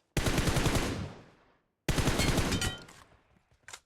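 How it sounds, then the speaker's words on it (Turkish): Two long bursts of automatic rifle fire in PUBG Mobile, shot through a 4x scope. They are loud and close, split by a short pause, and each burst trails off into a fading echo. "4 de bu şekilde çok iyi gidiyor mermiler"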